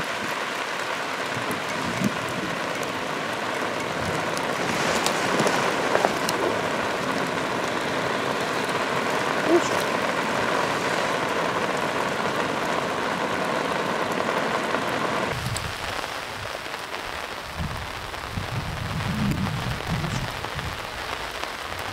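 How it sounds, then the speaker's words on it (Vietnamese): Heavy rain pours steadily outdoors by a river, a loud, dense hiss of drops on surfaces that stays constant, then grows slightly thinner and more spattered toward the end, with no talking. "Mưa quá anh em ạ."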